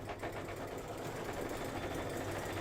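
An embroidery sewing machine stitches a Kimberbell Heart and Home door decor design, giving a steady, continuous mechanical hum and rapid needle chatter at close range, with no talking.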